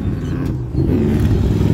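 Retro rally cars in the Norra Mexican 1000 race rumble past nearby, a loud low engine drone that dips briefly and then surges again as they accelerate; no talk.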